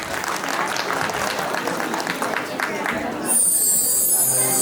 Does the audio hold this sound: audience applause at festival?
yes